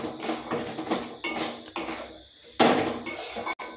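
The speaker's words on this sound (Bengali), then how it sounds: "সব কিছু একসঙ্গে মশলাটাকে মিশিয়ে নিচ্ছি।" Besan and spices being stirred together in a metal pan for khasta moong dal kachori, with a utensil scraping and clattering in repeated bursts, close and fairly loud, no talking.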